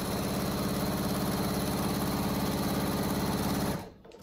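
Sewing machine running steadily while stitching a cat carrier cover, a loud, even mechanical whir with rapid needle rhythm that stops abruptly near the end, leaving near quiet.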